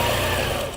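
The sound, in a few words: quilting sewing machine stitching slowly in manual mode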